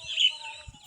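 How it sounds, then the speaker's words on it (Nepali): Chickens cluck and call in a village, a short, faint burst of bird sounds over a quiet background. "हाम्रो गाउँमा चाहिँ हाँस कुखुराहरू चाहिँ थुप्रै रहेका"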